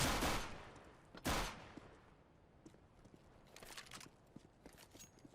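Gunfire in the video game CS:GO, a couple of sharp close shots near the start followed by fainter scattered pops and rapid bursts, quiet overall.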